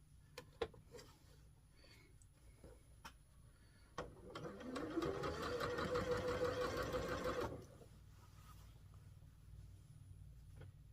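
A sewing machine stitches quilt fabric in one close, fast, rattling run of about three and a half seconds, with quiet handling clicks before and after.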